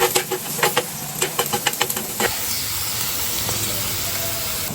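Chopped tomatoes tipped into a hot clay pan over fried onions, first a few sharp clattering drops and hits, then a sudden loud hiss of sizzling that settles into a steady frying crackle with no talking.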